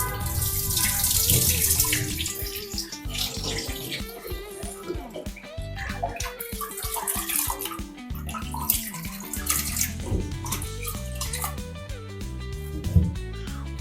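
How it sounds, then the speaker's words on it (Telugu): Beef pieces are washed under a running tap, with a loud, continuous gush of water and wet splashing and handling in a sink, close by, with a voice talking partly underneath. "ఇవి మనం మళ్ళీ ఒక్కసారి వాష్ చేసుకుంటాము"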